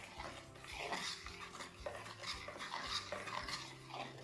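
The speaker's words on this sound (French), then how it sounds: "Et je mélange très peu." A spoon stirs chocolate fondant batter in a bowl, making soft rhythmic scraping and gentle clinks against the sides, quiet and close with a steady back-and-forth pattern.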